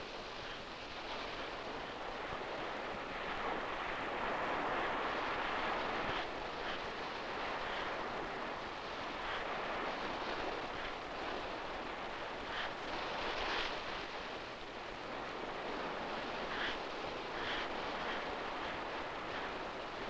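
Ocean waves wash up on a sand beach, a continuous broad hiss of surf rising and falling in soft surges, steady and moderately distant with no voices.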